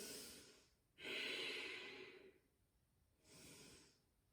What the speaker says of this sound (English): Deep Ujjayi breath, send it in.